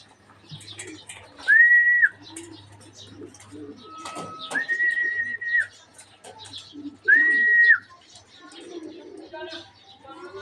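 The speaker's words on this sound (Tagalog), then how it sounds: "Dumating nating alagang kalapati galing ng Herona, Tarlac." Homing pigeons arriving at an arrival loft after a race from Gerona, Tarlac, with bird calls and flutter amid the yard, three loud sustained whistles sounding in turn, and someone talking between them.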